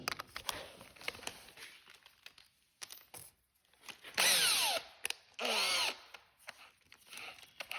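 A drill bit bores into the rivet posts of a Hot Wheels die-cast car, giving loud, close, whining bursts, two of them long and grinding, with quieter scraping and handling noises between them.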